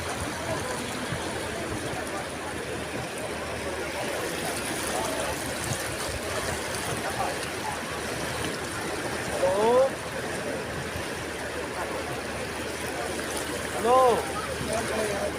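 Floodwater rushes through a village in a steady broadband wash, with no pauses. Two brief, faint squeaks or calls rise above the flow near the end.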